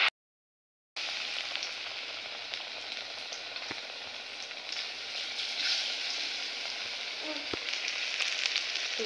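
Malabar spinach leaf fritters fry in hot oil with a dense, steady sizzle, close and continuous after a second of silence, with no talk.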